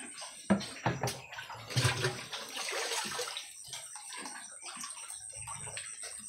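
Water is poured and splashes unevenly into a container for sows on a pig farm, with irregular sloshing bursts and a steady background hiss, close and without talk.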